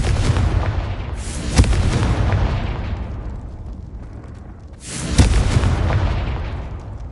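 Two booming Confringo spell explosions from a Hogwarts video game, each a loud blast that rolls off into a long rumbling decay, the second coming about three and a half seconds after the first.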